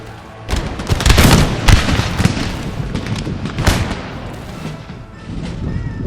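Musket volley fire on a battlefield in Empire: Total War, a Prussian army against native warriors: loud crackling bursts of massed shots rolling in overlapping waves with booming reports, dense and continuous throughout.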